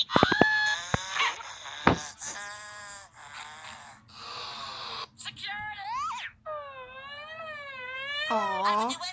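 A cat yowls and wails in drawn-out, wavering cries inside a chaotic edited cartoon remix, the voice bending up and down over several seconds with a few sharp cuts and bursts between.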